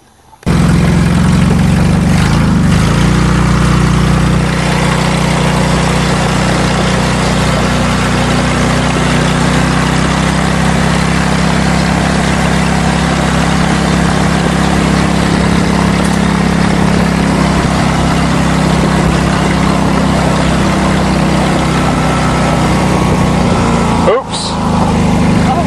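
Engine of a water tanker vehicle filled to the top with water, driving on a farm track as a loud, steady low rumble that continues throughout, close by.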